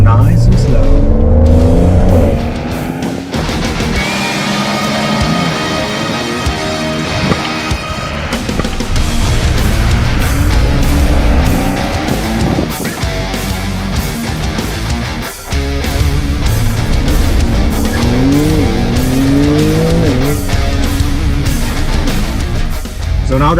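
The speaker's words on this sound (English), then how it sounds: "Pulling some slaloms today." A Porsche sports car works through an autocross slalom course, its engine droning and revving loudly and continuously as it turns back and forth, with tire squeal and a voice speaking over it.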